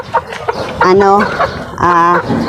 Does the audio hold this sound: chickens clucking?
yes